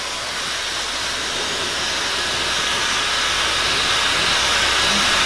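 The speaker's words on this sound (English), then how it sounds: "it's like you almost have to turn the dryer down, just the speed of the dryer down a bit, so the hair is not blowing all over the place" A hair dryer blows on long, wavy, curly hair, giving a loud, steady, continuous airy whoosh and hiss that holds unchanged throughout with no voices.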